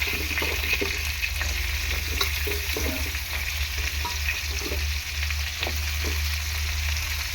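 Potatoes and vegetables fry in a home kitchen pan, giving a steady, close sizzle with occasional stirring scrapes and pops throughout, no talking.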